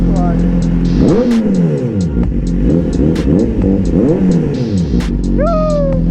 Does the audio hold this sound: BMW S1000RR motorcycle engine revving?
yes